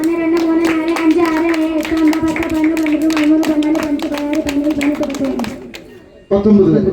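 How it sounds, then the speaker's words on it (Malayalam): An audience claps hard and fast in a steady rhythm, dense and loud, while a voice talks over it, then the clapping cuts off near the end. "ഇവർ എണ്ണുന്ന സമയത്ത് കട്ടക്ക് കൈയടിച്ചോ"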